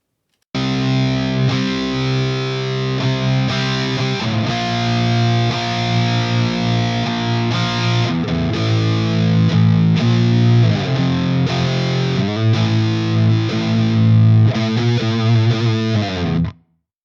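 Thick, distorted electric guitar through Amplitube cab simulation with multiple mics plays a continuous chugging riff with full low end, loud throughout, then stops cleanly.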